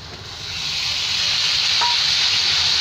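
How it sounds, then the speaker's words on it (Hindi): Tomatoes hitting hot oil with garlic masala for an aloo baingan and black gram curry, the sizzle swelling quickly in the first half second and then holding as a loud, constant hiss. "अब मैं इसमें टमाटर डाल देती हूँ।"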